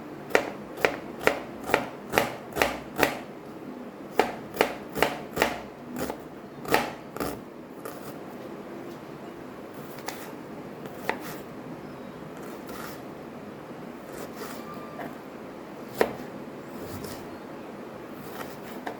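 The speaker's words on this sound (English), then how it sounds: "Now we chop this very fine." A knife chops parsley finely on a board in a burst of about a dozen quick, crisp, evenly spaced strikes, then slower scattered taps and light scraping follow, close and fairly quiet.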